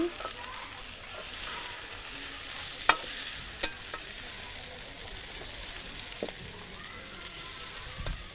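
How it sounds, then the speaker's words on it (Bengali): Fried eggs being stirred in a sizzling pan, with a steady frying hiss throughout and a few sharp clicks of the spoon against the pan. "ডিমগুলো আগে ভেজে নিয়েছিলাম, এখন দিয়ে দিয়েছি, নাড়া দিয়ে দিচ্ছি।"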